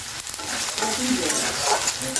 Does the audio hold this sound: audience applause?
no